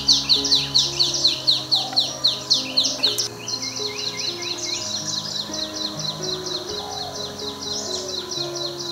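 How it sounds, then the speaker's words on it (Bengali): Spring birds in the Bengal countryside call close by, a rapid, repeated chirping phrase over a steady background of other faint birdsong and insect drone. "বসন্তকালে বিভিন্ন প্রজাতির পাখির ডাকেও বাংলার প্রকৃতি মুখরিত হয়ে ওঠে।"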